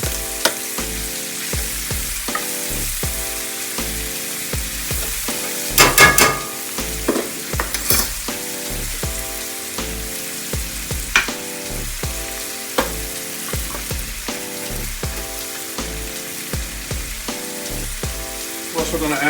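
Sliced onions and mushrooms sizzle steadily in a hot pan for smothered pork chops, with repeated scraping and stirring strokes over a continuous frying hiss, close and fairly loud throughout.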